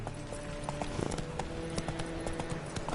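Roach, the horse in The Witcher 3, gallops with steady, loud clip-clop hoofbeats under game ambience, a rapid even rhythm close by with a faint whinny-like tone.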